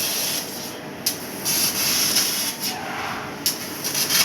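CNC laser machine cutting a metal sheet portrait, producing a steady hissing spray-like rush broken by brief sharper bursts and pauses, close and fairly loud with no talking.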